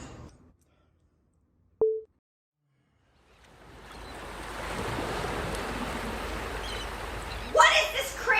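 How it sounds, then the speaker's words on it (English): A sleep sound machine switches on with a single short beep, then after a pause plays a steady, loud wash of calming ocean waves breaking on a beach, with brief voices near the end. "It's calming waves crashing on the beach."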